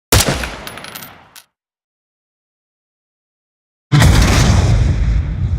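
A video game machine gun sound effect: a burst of rapid fire that trails off, then a gap of silence before another loud, sustained volley of automatic shots.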